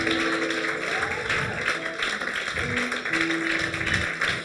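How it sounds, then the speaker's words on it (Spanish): A church congregation applauds steadily throughout, a dense continuous patter of hand claps with faint voices mixed in and a sustained tone from music or singing underneath. "Dale un fuerte aplauso al Señor"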